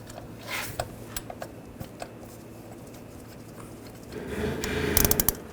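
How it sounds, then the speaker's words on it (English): Ratchet tightening a bolt on a bracket over a stud while replacing a coolant temperature sensor on a 2009-2017 Volkswagen Tiguan 2.0L L4, quiet scattered clicks followed by a quicker, louder burst of ratcheting near the end. "And you just tighten this bolt."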